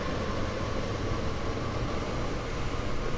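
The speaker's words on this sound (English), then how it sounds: "But I watch this train go by." A train passing at night in Train Sim World 2 on the Rhein-Ruhr route: a close, loud, continuous rumbling roar of wheels and cars rolling past without pause.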